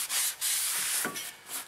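Cloth or pad rubbing and wiping across the braking surface of a rear brake rotor on a 2003 Honda CR-V, with steady scrubbing strokes close up and two short pauses.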